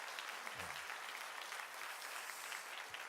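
Church congregation applauding during a revival service, steady quiet clapping from a crowd throughout, fairly distant and evenly sustained.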